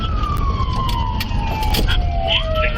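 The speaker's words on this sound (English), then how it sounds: "Lights and sirens go off." A wailing police siren sweeps up and down in pitch, loud and close, over steady road rumble.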